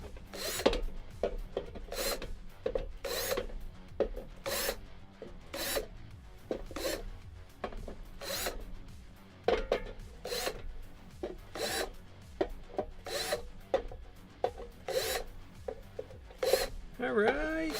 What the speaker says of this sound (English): now I'm going to very quickly use a countersink bit and just like hit the top of all of these so they're chamfered inward a little bit